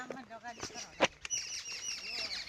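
Birds call around an outdoor spot where a koel is present, with short chirps and a sharp flutter-like burst over a background of voices and movement, moderately close.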